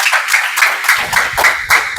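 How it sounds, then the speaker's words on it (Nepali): A loud round of clapping from a gathered audience of herbal product distributors at an event in Malaysia, a dense, steady burst of many hands close by with no talk over it. "एक जोरदार ताली बजाउँ त आफ्नो लागि"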